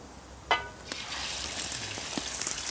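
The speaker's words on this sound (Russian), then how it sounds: "Опускаю первым делом мясо. Хочу мясо пожарить" Meat frying in a pot for Chechen plov, a soft steady sizzle with a sharper crackle as pieces go in, close and fairly quiet, with no voices.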